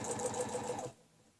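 A sewing machine stitching a tulip design along a ruler, a quick steady run of needle strokes close by that stops abruptly after almost a second, leaving faint room tone.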